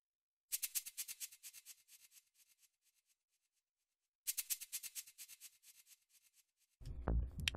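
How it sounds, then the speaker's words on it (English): Two bursts of bright, hissy shaker hits with heavy delay, each a quick rhythmic flurry that trails off in decaying repeats, followed by a low rumbling thump at the end. "Here we have some shaker hits,"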